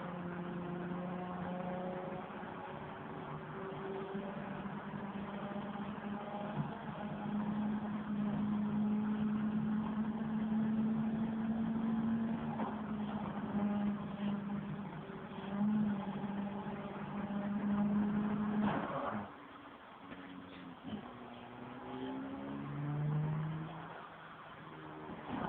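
A racing car engine in Forza Horizon drones steadily at high revs with no traction control, shifting pitch as it accelerates, then dips and surges again after a brief lift near the end.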